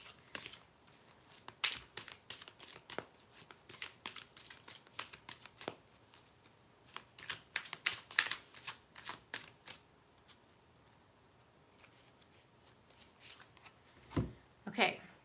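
Tarot cards shuffled close to the mic during a live reading, quick crisp riffles and flicks coming in bursts with short pauses between them, fairly quiet overall.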